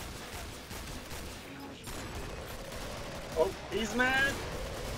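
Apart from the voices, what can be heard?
Zed gun firing in Killing Floor video game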